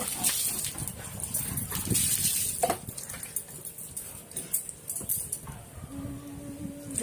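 A puppy whimpers and yips in short, soft bursts just before a bath with soap at home, with handling noises and a brief higher whine near the end; no one talks over it.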